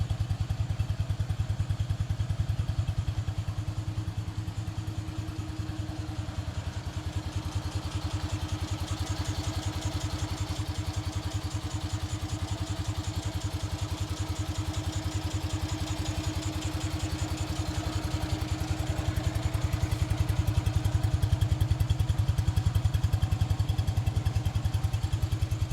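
A motorcycle engine fires on the first kick with no throttle and settles into a steady, rhythmic running chug. The tone stays even and loud for the whole stretch, close by, and nobody speaks.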